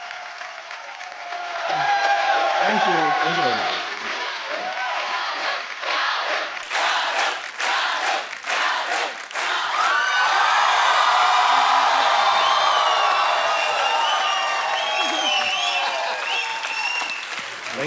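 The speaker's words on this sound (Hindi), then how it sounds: "जोरदार तालियां एक बार शान भाई और आलिया भट्ट के लिए" A studio audience for a comedy show breaks into loud, sustained applause with cheers and whoops that rise and swell midway. Someone briefly speaks a word of thanks over the clapping.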